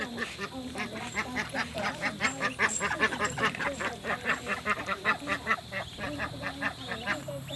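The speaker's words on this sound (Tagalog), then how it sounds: "Yun yung mga Muscovy duck." Muscovy and Peking ducks on a farm in Estancia, Iloilo, quacking repeatedly in a busy, overlapping chorus at moderate distance, rhythmic bursts of calls continuing throughout.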